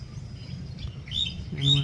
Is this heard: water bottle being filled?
no